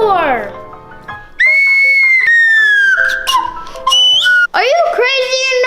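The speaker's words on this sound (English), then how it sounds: "It's a swag whistle." A swag whistle plays loud, bending slide-whistle tones that swoop up and down in pitch across several seconds, with a voice briefly heard near the start.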